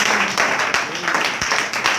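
Church congregation clapping and cheering in acclamation during a French-language sermon, a dense continuous wash of applause with scattered voices mixed in throughout.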